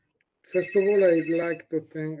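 A phone rings with a bright, steady repeating tone during an academic talk on ancient women writers, sounding close and fairly loud beneath a man's speech.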